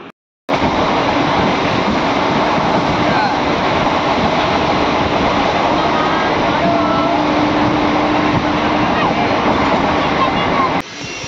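Ganadevata Express passenger train runs along with a steady, loud rumble and rattle heard from inside the carriage, a constant broadband roar that holds unbroken for several seconds before cutting off.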